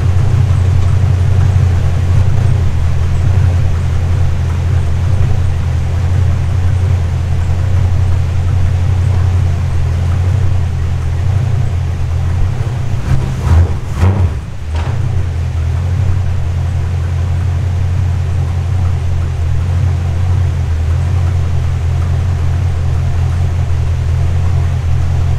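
A Studebaker Sky Hawk Custom engine idles steadily with its rear end raised and the swapped-in transmission engaged in gear, a loud, constant low drone with a brief disturbance partway through.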